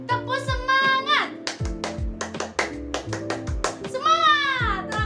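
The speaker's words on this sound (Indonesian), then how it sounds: "sekali lagi, tepuk semangat" A class of children performs a rhythmic spirit clap in a school lesson, with sharp claps and taps in a patterned beat while the children chant and sing along throughout.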